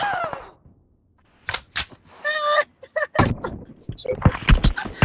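Video game gunfire rings out in sharp, loud single shots amid bursts of game sound effects, with people talking excitedly over the match.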